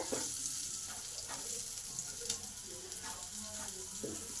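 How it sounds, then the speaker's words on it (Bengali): Pointed gourd pieces fry in a pan with a soft, continuous sizzle, broken by occasional scrapes and stirring taps of a spatula; fairly quiet and close, with no talk. "যেদিকটা ভাজা হয়নি সেদিকটা ভালো করে ভেজে নেব"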